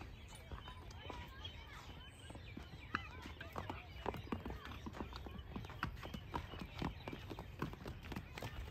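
A four-year-old grey mare, about three months pregnant, clops her hooves steadily on hard ground nearby while people talk over the steps.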